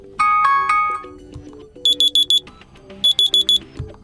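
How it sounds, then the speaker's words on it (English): An alarm tone playing on an STK Life 9 phone, a short melodic chime followed by two bursts of rapid high beeps in groups of four, clear and close with no talk. "select new sound for your alarm from the list."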